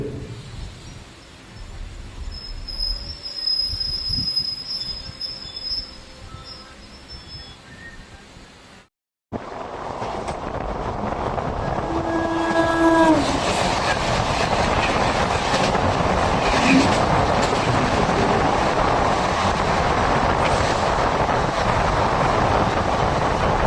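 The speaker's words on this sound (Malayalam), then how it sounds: "കേരളത്തിൻ്റെ സ്വന്തം രാജധാനി എക്സ്പ്രസ് ആണ് ഇപ്പോൾ ഇതാ കടന്നുപോയത്" The Rajdhani Express rolls close by through Dharmadam railway station with a loud sustained roar and clickety-clack of wheels after a quieter stretch; a brief horn-like tone sounds amid the rumble.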